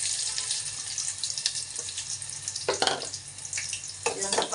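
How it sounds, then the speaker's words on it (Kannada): Onions sizzling in hot oil while an old-style egg sambar is being cooked, a steady broadband hiss with a few sharper bursts of crackle and stirring near the end, close and fairly loud, with no talking. "ಎಣ್ಣೆ ಕಾದಿದೆ. ಇವಾಗ ಈರುಳ್ಳಿ ಹಾಕ್ತಾಯಿದ್ದೀನಿ."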